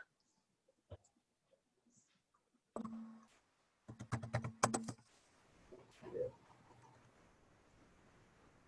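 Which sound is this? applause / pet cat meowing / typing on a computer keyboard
typing on a computer keyboard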